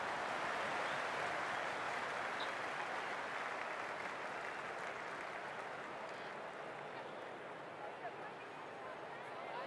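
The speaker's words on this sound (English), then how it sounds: "The crowd is electric right now." Crowd roar and applause in the Cricket 26 video game on PS5, a dense, steady wash of cheering that fades slightly toward the end, with commentary voices speaking over it.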